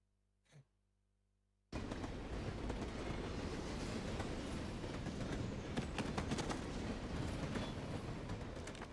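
A train moves in the Wolfenstein video game: after a short breathy sigh in near silence, a loud, dense rattling rail roar starts abruptly and continues steadily with clanking bursts.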